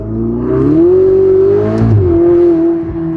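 A Ferrari 488 Spider engine revs under throttle, a loud, close, steady drone that climbs in pitch, holds, dips briefly and settles again over about three seconds.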